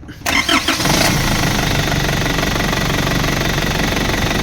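An Isuzu D-Max pickup's 4HJ1 diesel engine with a low power issue cranks and catches after a short pause, then runs at a loud, rough, clattering idle that holds steady to the end.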